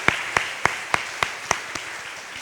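At a school graduation ceremony, a round of applause comes through as evenly spaced, steady claps, about seven in a row, growing fainter over a soft background hiss.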